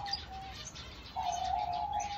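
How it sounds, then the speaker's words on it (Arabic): A small grey-blue diamond dove gives soft, steady coos, a short call followed by a longer sustained one, fairly close and clear over a quiet background. "حمامة الكريستالية هذه أو دايموند دوف."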